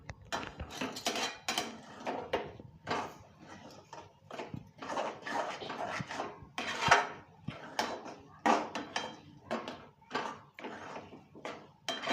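A spoon stirs a thick coconut mango ladoo mixture in a pan, giving repeated close scraping and clinking strokes in an uneven rhythm.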